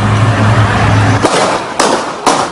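Several sharp, loud bangs at outdoor public gunfire, easily mistaken for fireworks, come in rapid succession over a broad rumbling noise, spaced irregularly about half a second apart.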